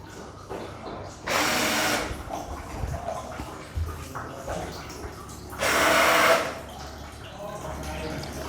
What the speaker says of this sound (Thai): โอ้สว่านนี่คือกระแทกได้อันนี้เนาะ